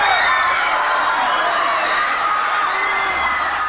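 A crowd of about 1,000 Michael Jackson fans at Sydney's Sheraton on the Park in 1996 screams and cheers in a loud, continuous, high-pitched roar with shrill whoops rising out of it.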